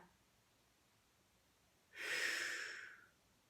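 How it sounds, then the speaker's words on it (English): One long, deep breath taken during a back-strengthening yoga exercise, close to the microphone, rising suddenly out of near silence and lasting about a second before fading. "Take a breath."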